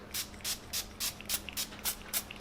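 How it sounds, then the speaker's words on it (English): Farsali Rose Gold Mist is spritzed onto a face in a quick, even series of about eight short, airy hisses, close and crisp, with no voice over them. "I'm gonna spray a little of this Farsali Rose Gold Mist."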